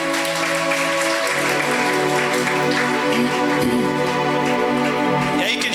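A church congregation at a revival conference in Peshawar claps steadily and loudly, with music or voices droning underneath the continuous applause.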